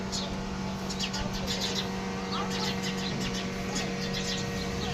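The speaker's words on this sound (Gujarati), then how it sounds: "જે ઝાડ પર બેઠી છે ને બધી ચકલીઓ બાજી રહી છે" Several sparrows chirp and squabble in a tree, with scattered short, bright calls over a steady low hum of traffic.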